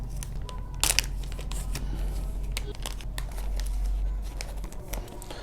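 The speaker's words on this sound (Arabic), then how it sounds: "وهيكون معنا أكياس لحفظ الطعام، بيكون فيها من فوق زي سوستة أو قفل" Plastic zip-lock food storage bags being handled for a homemade cooling gel pack, crinkling and rustling in scattered bursts close by, fairly quiet.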